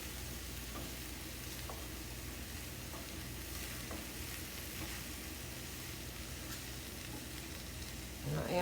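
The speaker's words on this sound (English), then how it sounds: "You don't want to stir it too much and tear it up, but just enough to really get it mixed good" Okra and fresh tomatoes sizzle steadily in a hot pan while being stirred and folded over, with soft spoon scrapes rising above a continuous close frying hiss and no talking.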